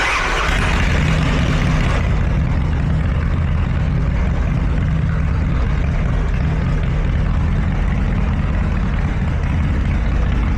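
A carbureted motorcycle engine runs loud and close with a continuous rough drone and no break.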